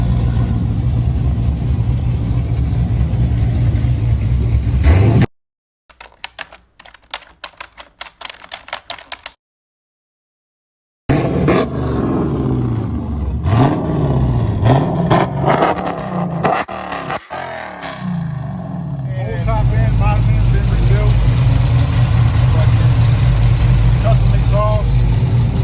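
A cammed 5.7L Hemi V8 in a Chrysler 300S throbs loudly at the start and end, broken by a stretch of silence and clicking. A voice talks over the middle section.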